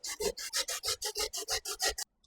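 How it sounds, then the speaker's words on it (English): Raw sweet potato is grated by hand, giving a quick series of about eleven even, rasping strokes in a fast rhythm before it stops abruptly. "going to grate the potatoes"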